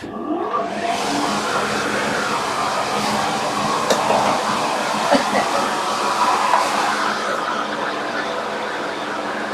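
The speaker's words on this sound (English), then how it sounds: "better put the dust extractor on there" A workshop dust extractor starts up and runs with a loud, steady whooshing roar that stays constant and close, with faint knocks and clatter from the bench under it.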